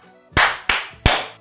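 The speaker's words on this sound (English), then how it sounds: "Clap." Three sharp, loud hand claps ring out in quick succession in a kitchen, each a crisp isolated crack with a short decay.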